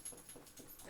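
A dog scratching an itch indoors, giving soft rhythmic scuffing bursts close by with faint panting, ending in a louder rustle.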